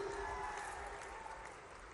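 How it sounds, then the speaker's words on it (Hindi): Applause from a large crowd at a public event with the chief minister in Khargone, heard as a faint, distant, continuous clapping wash with a faint tonal hum underneath. "आप ताली बजाते जाना जोरदार।"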